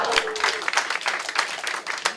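Comedy show audience breaking into brief applause, scattered claps mixed with crowd noise and a voice speaking over it, moderately quiet and uneven.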